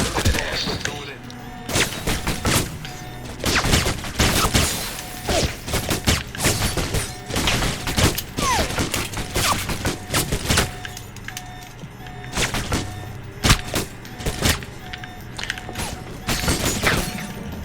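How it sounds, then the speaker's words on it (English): Enemy gunfire in the video game Alpha Protocol, repeated sharp bursts of shots and thuds over a busy mechanical background, with brief talk in between. "they still shoot at you whilst this is happening"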